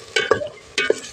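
Vegetables tossed and stirred in a hot frying pan, two loud bursts of scraping and sizzle close by, separated by a quieter pause.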